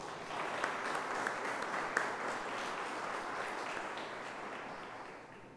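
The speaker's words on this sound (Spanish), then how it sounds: "Le brindamos un fuerte aplauso." At the inauguration of an electoral lecture series, a large audience applauds. The clapping is dense and even, heard at a distance, and holds steady at a moderate level for several seconds.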